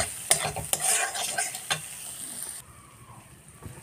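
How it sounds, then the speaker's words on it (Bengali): Spiced food stir-frying in a pan, loud sizzling broken by repeated scraping strokes of a spatula for a couple of seconds, then dropping to a softer, quieter sizzle. "এবার কষিয়ে নেব ভালো করে।"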